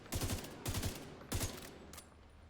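Firefight in The Division 2 in hardcore mode: three short bursts of rapid automatic fire crackle one after another, then a single fainter shot, with no voices.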